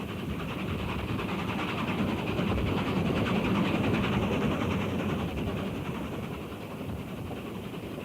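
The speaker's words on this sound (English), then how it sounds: "A Class E2B 280 Camelback speeds by with a mixed local." A Class E2B 2-8-0 Camelback steam locomotive speeds past with a mixed local train, a loud steady roar of rolling wheels and clanking cars that swells in the middle and eases slightly as it passes.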